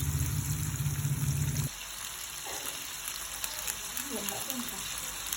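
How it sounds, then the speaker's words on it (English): Shallots, garlic and chilies sizzle in a hot pan with a loud frying hiss for the first second and a half, then the sizzle drops to a quieter, steady crackle with light scraping and stirring noises. "Saute shallots, garlic, and chilies."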